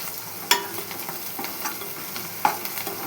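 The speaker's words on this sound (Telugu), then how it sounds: "తర్వాత అల్లం పేస్ట్ వేసి కొంచెం పచ్చివాసన పోయేదాకా వేయించుకోవాలి" Ginger paste fries in a pan while being stirred, making a steady close sizzle broken by two distinct clacks of the utensil against the pan and soft scraping in between.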